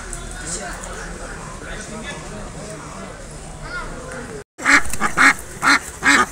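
Duck quacks sound in a short burst of repeated calls after a brief silence, over a busy outdoor poultry market bustle with people talking.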